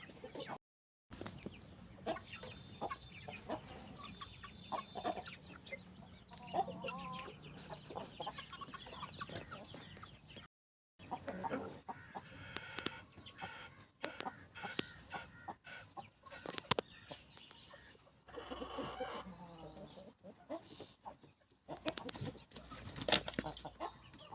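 Aseel chickens cluck and a rooster calls in a quiet yard, with a broody hen among them, scattered bird sounds continuing steadily with brief pauses and little talking.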